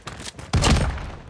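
Gunfire in the mobile shooter game Call of Duty Mobile, with a few quieter shots followed by a loud, rapid burst of automatic fire that rings on with a short tail and no voices over it.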